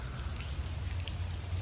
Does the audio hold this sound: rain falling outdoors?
yes